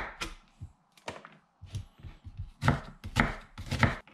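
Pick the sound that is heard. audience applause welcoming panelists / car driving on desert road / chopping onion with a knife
chopping onion with a knife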